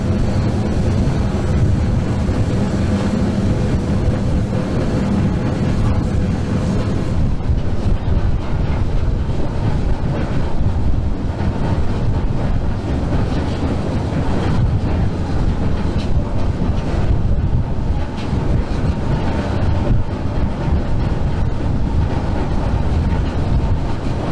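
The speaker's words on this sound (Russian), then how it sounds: "этот постоянный перестук колесных пар" A train's wheelsets clatter steadily over railway track sleepers, a loud, continuous rhythmic clickety-clack heard from onboard with rumbling carriage noise throughout.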